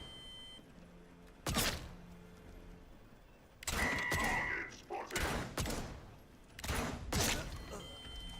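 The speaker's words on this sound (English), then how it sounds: "Stay put while I shoot you." Gunfire in the video game Atomfall, several loud sharp bursts of shots in separate clusters with quieter pauses between, set against a faint background ambience.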